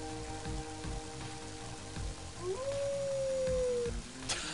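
In the video game Mother 3, the dog Walker gives a drawn-out rising howl in the middle of a sustained rain-like hiss and low repeating game music, with no talk over it.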